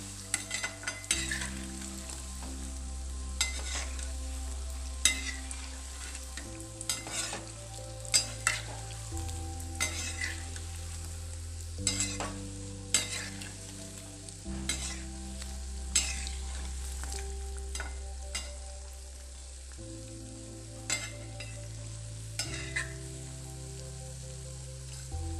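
Homemade biscuits frying in oil and flipped over, making a continuous bubbling sizzle with scattered crackles, partly beneath prominent background music.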